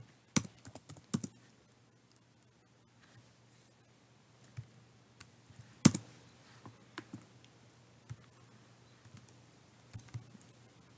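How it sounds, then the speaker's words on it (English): Someone types on a computer keyboard in irregular bursts of quiet clicks with pauses between them, close and faint, with no talking. "You might be typing."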